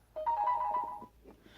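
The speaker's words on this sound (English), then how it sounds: "sorry about my phone going off" A mobile phone ringtone plays a short melodic phrase, moderately faint against a quiet indoor background, with no talking.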